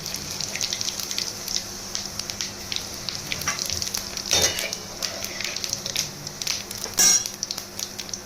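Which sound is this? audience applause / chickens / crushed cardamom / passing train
crushed cardamom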